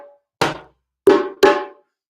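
Hand drum strokes in a rhythm circle: three sharp, resonant hits with short decay, spaced unevenly, close and alone.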